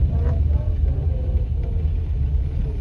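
An Austin Allegro pulls away at a steady pace, its low engine rumble continuous and fairly loud from inside the car.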